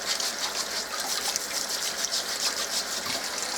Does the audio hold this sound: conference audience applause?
no